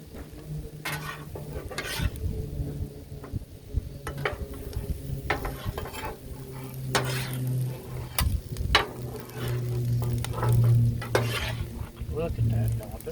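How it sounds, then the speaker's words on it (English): Spatula scraping and stirring jambalaya on a Blackstone flat-top griddle, steady sizzle under rhythmic metal scrapes and taps, close and fairly loud. "A little bit more mixing."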